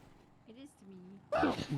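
A single short, sharp sneeze bursts out loud right after a quiet murmur of speech.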